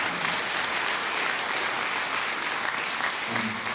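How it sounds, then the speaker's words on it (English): A school band concert audience claps for two student performers, a thick, even wash of applause from a full room, steady and fairly loud throughout. "So I want to give one more round of applause to Jacob and Ryan for that piece"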